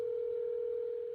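A steady telephone dial tone holds one unbroken pitch, clear and even, with nothing else heard.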